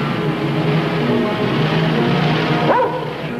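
A hunting dog barking in an old radio detective drama, sustained yips and bow-wows over a steady noisy background, with a brief whimper near the end.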